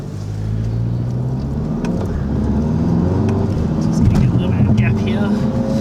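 A tuned VW MK7 GTI engine hums steadily in third gear while the car slows to around 30 to 40 km/h, a loud, continuous drone from inside the cabin with slight rises in pitch.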